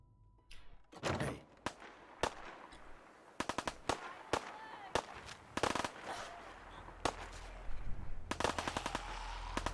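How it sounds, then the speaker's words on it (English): Rapid bursts of gunfire ring out in Fallout 4 as ghouls are shot, sharp volleys and single cracks scattered irregularly over roughly ten seconds, some clustered into quick strings, moderately loud against a low background. "They're shooting ghouls."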